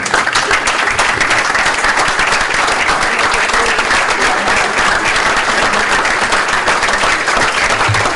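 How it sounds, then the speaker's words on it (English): An audience applauds participants standing up in a conference hall, dense continuous clapping from many hands held at a steady loud level throughout. "Can I ask the 80 people to just stand up so that we can applaud you?"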